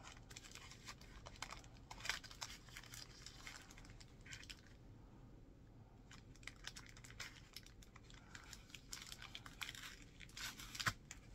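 Plastic package from a crafting supplies haul being cut open, holding a rubbery silicone cat mold; soft scratchy crinkling and slicing noises come in bursts throughout, close and fairly quiet, with no talking.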